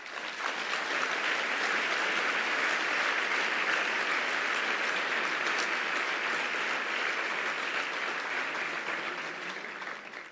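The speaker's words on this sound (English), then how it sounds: "May I ask for a round of applause for the students and the young people who made it here" A large audience at a global health summit opening ceremony applauds students and young people, a dense, sustained wash of clapping that holds steady and fades slightly at the end.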